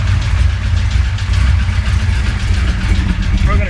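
A 1966 Chevy Impala's 427 V8, revived after 20 years abandoned, idles with a deep, steady, loud rumble close by, slightly uneven in rhythm, while someone talks over it.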